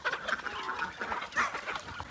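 Chickens clucking in a backyard enclosure where ducks are also kept, a steady run of close, moderately loud clucks and calls with brief bird chirps, no talking.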